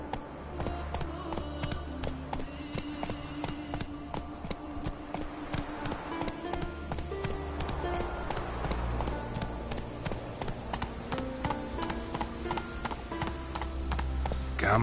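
Horse galloping in The Witcher 3: Wild Hunt on Skellige, a fast steady clip-clop of hooves close up, running continuously with game music and ambience underneath.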